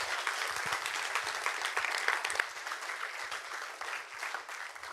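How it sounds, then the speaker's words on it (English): A cyber security event audience applauds a speaker, a steady wash of many hands clapping together, fairly even in loudness and slowly thinning toward the end. "So big round of applause again for Martin."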